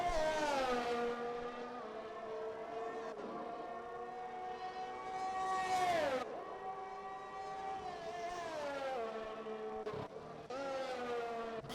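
An F1 race car in an F1 video game screams through a lap, its high engine whine rising through the gears with sharp drops at each shift, loud and continuous.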